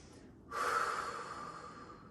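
A heavy, drawn-out exhale during a Pilates reformer exercise, a single close breathy rush that follows a short quiet moment and holds steady to the end.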